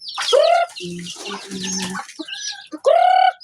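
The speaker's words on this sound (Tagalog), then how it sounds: "Ito sa mga manok." Chickens cluck in short bursts and low murmurs near the recorder, with a few louder calls among them. No voices are heard.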